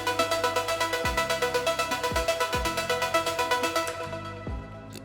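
Afro House strings and a synth section play together in a bridge, a dense sustained chordal texture pulsing in a steady rhythm over deep bass notes that drop out and re-enter, thinning near the end.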